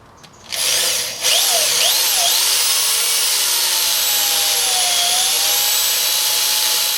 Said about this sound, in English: drill a hole into the metal dash so I can put a screw in there